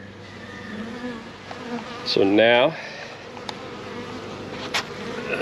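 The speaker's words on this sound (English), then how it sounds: "we'll be good to go for installing this package of bees" Honey bees from a package being installed in a hive give a low, steady buzz throughout, with someone briefly speaking partway through.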